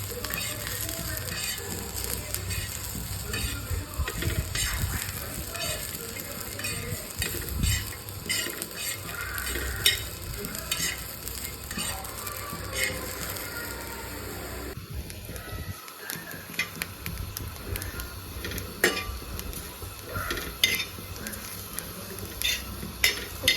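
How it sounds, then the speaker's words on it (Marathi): Chillies and garlic roast in a hot pan with a soft, crackling sizzle, while a spatula scrapes and clinks against the metal now and then. "मस्त मिरच्या आणि लसूण भाजून घ्यायचं"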